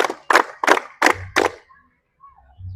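Five sharp, evenly spaced claps from a group during an ice-breaking exercise, loud and close at a steady counted beat, then a short pause with faint low rumble.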